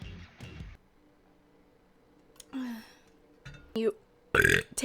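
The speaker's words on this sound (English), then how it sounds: "I'm sorry I burped." A woman on a livestream burps a few times in short bursts, separated by quiet pauses, finishing with one louder belch.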